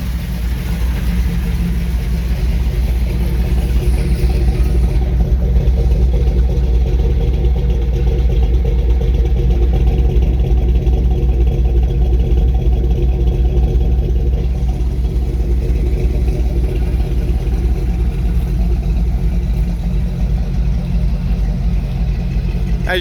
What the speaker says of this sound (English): I'll get you back by the exhaust where you can just hear this thing just humming to you